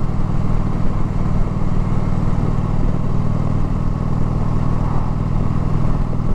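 A Harley-Davidson Sportster 48 motorcycle engine runs steadily and loudly throughout, a continuous low rumbling idle with a dense mechanical clatter and no talk.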